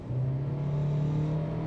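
A Kia Seltos 1.5-litre petrol engine with CVT revs in a steady, sustained drone that holds one rising tone throughout, close and fairly loud, with no talking.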